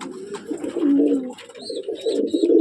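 A female pigeon coos in a loft of breeding pairs, a close, soft, rolling coo repeated over and over with faint chirps above it.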